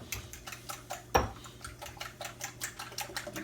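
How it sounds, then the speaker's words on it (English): A fork clinks rhythmically against a bowl while mixing eggs, quick tapping strokes with one sharper knock, close by and moderately loud. "I'm gonna just mix this up with a little fork here."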